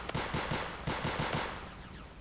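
Rapid bursts of gunfire in the Roblox Zombie Rush video game, a loud close rattle of repeated shots in two quick strings that trail off into a fading echo, with no talking.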